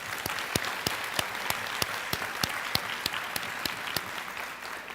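Graduation audience at Edgecombe Early College High School applauding steadily, with a dense wash of many hands and sharper individual claps standing out at regular intervals throughout, sustained at moderate loudness with no talk.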